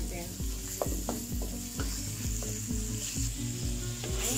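Chicken breast sizzles in a hot pan as a stir-fry for low-carb shirataki noodles, with a steady frying hiss and repeated scraping stir strokes in a quick, even rhythm close by.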